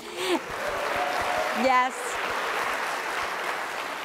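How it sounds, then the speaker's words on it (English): An audience applauds local McDonald's restaurants at an honors event, a steady wash of clapping running under a short spoken reply throughout. "that's right, applaud for them."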